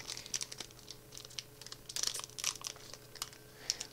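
Crinkly plastic wrapper of a Kaldheim trading card pack being handled and torn open, with irregular crackling bursts and rustles, fairly faint and close by.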